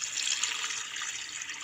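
Tap water pours steadily into a bucket holding rock salt, a continuous close hiss and trickle with no talking.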